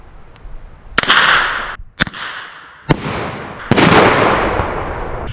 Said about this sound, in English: Shooting straight up in the air like that is going to make the sound of the bang come from directly above